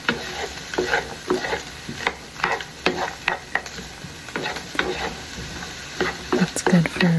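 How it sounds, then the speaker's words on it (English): Onions frying in a pan are stirred and broken up with a kitchen utensil, giving a run of soft, close scraping and clacking strokes over a low sizzle at an uneven, unhurried pace. "This was one of my favorite tools to mix, to kind of break things up in the pan."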